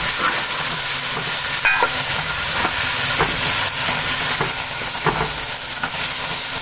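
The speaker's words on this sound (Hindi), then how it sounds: "अब आलूओं को मैं थोड़ी देर भून लूंगी।" Potatoes frying in a pan give a loud, steady hiss and sizzle that runs throughout, with a few faint scrapes of stirring and no voices.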